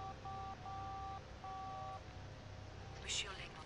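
Telephone keypad tones as a number is dialed in The Da Vinci Code video game, four distinct dual-tone beeps in an irregular rhythm, followed by a short electronic chirp.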